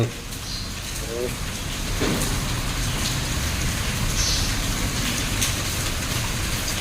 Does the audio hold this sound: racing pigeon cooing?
no